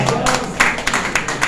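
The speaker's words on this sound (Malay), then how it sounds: "Kita bagi satu tepukan." A workshop audience claps for a group, giving a short burst of scattered, uneven claps that sound close and fairly loud, with speech mixed in.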